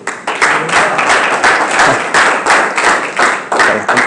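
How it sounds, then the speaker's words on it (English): A small audience at a talk in Swindon claps loudly and up close in a steady burst, with individual hand claps clearly distinct. "Give Hal a round of applause"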